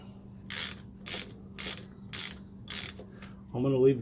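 A ratchet wrench loosens the bolts on a Chrysler 8.25 rear axle cover, giving about six short bursts of ratcheting clicks at a steady pace. A brief louder mechanical scrape comes at the end.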